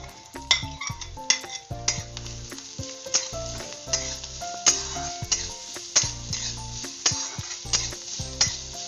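Grated carrot and softened onion sizzle steadily in a pan while a utensil scrapes and clinks against it in repeated sharp stirring strokes, close and alone with no voices.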